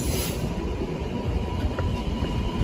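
A SEPTA train rolls past at moderate distance, giving a steady rumble of wheels on the rails with a faint squeal near a railroad crossing, and no talking.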